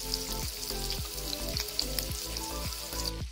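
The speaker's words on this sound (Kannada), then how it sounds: "ಸ್ವಲ್ಪ ಬೆಳ್ಳುಳ್ಳಿ, ಹಸಿಮೆಣಸು, ಕರ್ಬೇವು ಸೊಪ್ಪು, ಈ ಮೂರನ್ನು ಹಾಕ್ಕೊಂಡು ಸ್ವಲ್ಪ ಬಾಡಿಸ್ಕೊಳ್ಬೇಕು" Garlic, green chillies and curry leaves sautéing in hot oil, a constant close crackling sizzle with rhythmic scraping stirring strokes about twice a second.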